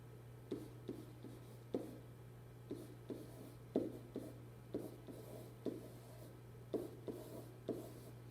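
A pen taps and scratches across paper in short, evenly spaced strokes while data is jotted down by hand, faint and close, over a steady low hum.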